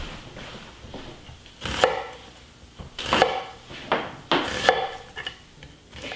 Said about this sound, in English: Now that you've successfully cut your onions without crying